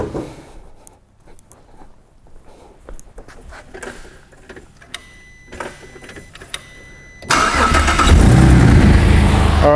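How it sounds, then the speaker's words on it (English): A Holden VZ Commodore cranks and starts: soft ticking and clicks first, then the engine catches and settles into a loud, steady idle up close, with no talking. "I just started the car"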